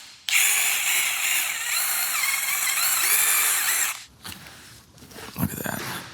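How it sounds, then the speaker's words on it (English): A drill fitted with a brush attachment whirs loudly and steadily while scrubbing grime on a twin-turbo diesel BMW engine, then cuts off, leaving scattered clicks and light handling noises. "I'm in here with one of my other drill brush attachments."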